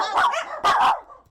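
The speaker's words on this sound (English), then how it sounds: "8 dogs are being looked after here" Dogs bark at a dachshund rescue run from a small home in Vale, Oregon: several close, yappy barks in quick bursts with short gaps between them.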